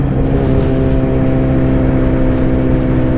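Motorcycle on a ride, a loud, steady engine drone with stable harmonic tones, continuous and close for the whole stretch.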